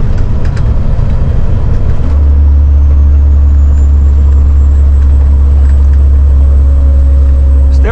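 A cabover truck shifting into ninth gear: a loud engine rumble changes pitch at the shift, then settles into a steady low drone with a faint whine rising above it.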